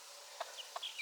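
Hens and a young rooster make a few short, soft clucks and chirps in a farmyard coop with chicks, two brief calls close together, then fainter chatter, quiet overall.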